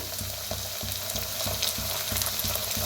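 Ginger-garlic paste hits hot oil in a pan with eggplant, a strong continuous sizzle punctuated by regular spoon stirring scrapes roughly every half second, close and loud.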